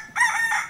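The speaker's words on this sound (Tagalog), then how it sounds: "Yung manok ko nang gigising." A rooster crows nearby in one loud, sustained cock-a-doodle-doo call lasting under a second.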